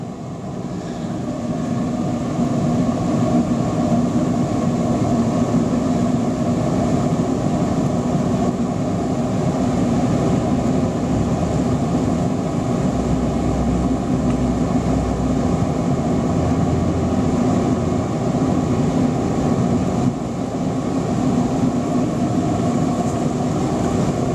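A Torpedo waste oil burner, lit for metal melting, gives a loud, constant, broadband roar throughout as it throttles up, steady and close, with no voices.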